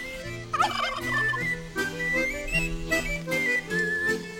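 Free-roaming turkeys gobbling in a loose chorus at the Marquèze ecomuseum, Landes, several birds calling over one another in rapid bubbling bursts, fairly close and steady throughout.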